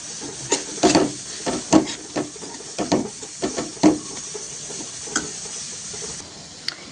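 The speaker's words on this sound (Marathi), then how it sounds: "आपण सगळे मसाले एकत्र इथे घालून देऊया छान असं परतून घ्यायचे" Black masala spices sizzling in a kadhai with repeated scraping stirs, a soft hiss underneath and irregular bursts of spatula strokes, close by with no talking.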